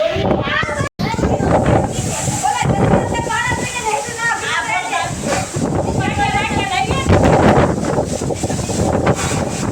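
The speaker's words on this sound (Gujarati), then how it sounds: "આમ ફૂલ પવન સાથે વરસાદ" Strong wind roars and buffets the microphone over steady unseasonal summer rain in Dhoraji, with people's voices mixed in throughout.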